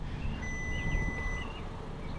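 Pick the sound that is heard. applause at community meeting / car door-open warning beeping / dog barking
car door-open warning beeping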